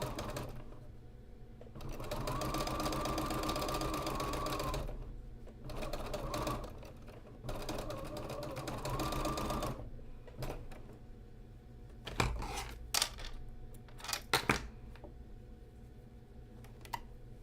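A sewing machine stitches quilt pieces in several steady whirring runs separated by short pauses, close and quiet, followed by a few sharp clicks and knocks.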